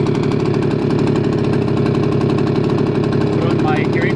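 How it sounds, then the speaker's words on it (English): Brand-new Ryobi leaf blower engine running gently during break-in, a loud, steady buzzing drone with a rapid pulsing beat, close and unbroken throughout. "Brand new engine, so I don't want the engine to run too fast, too quick."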